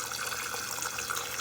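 Water runs steadily from a toilet tank whose float fails to shut off the fill valve, a constant close-up hiss and trickle with no talk.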